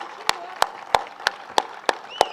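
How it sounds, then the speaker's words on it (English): A crowd at a performance claps in steady unison, seven sharp, evenly spaced claps about a third of a second apart, close and clear over a low murmur. "Once again clap for"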